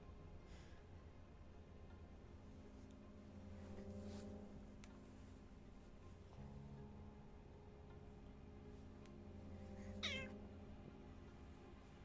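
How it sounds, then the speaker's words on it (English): A sad cat meowing in the video game Strange Antiquities: a few soft, drawn-out meows, quiet over a low, steady in-game ambient hum. "Sad kitty noises."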